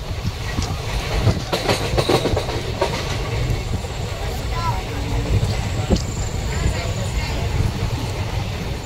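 A Konkan Railway passenger train runs at night toward Mumbai from Kankavali, heard from aboard as a loud, steady rumble with rattling carriages and intermittent clickety-clack of wheels over rail joints.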